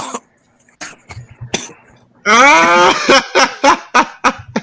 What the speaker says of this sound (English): Catch the cough, my brother.